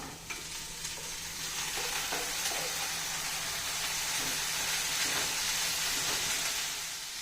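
Onion and green chili frying with curry leaves in a pan give a steady, fairly quiet sizzle with soft stirring scrapes throughout.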